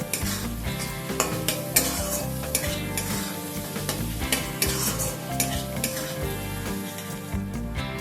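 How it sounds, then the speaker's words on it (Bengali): Grated ginger and garlic sizzle steadily in oil in a pan while a utensil stirs and scrapes with irregular clinks and knocks, close by. "আদা রসুনটাকে আরো কিছু সময় নিয়ে একটু ভাজা করে নেব।"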